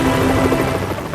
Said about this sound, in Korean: 탈출을 위한 헬기에 거의 다다른 준하